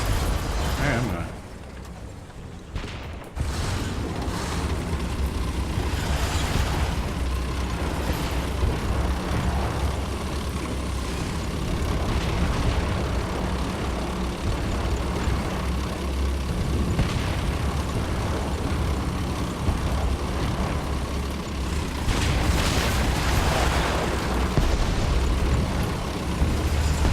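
A tank in War Thunder rolls forward with a steady, loud engine rumble and track clatter, with booming bursts in the background of a battle and a brief dip in level near the start.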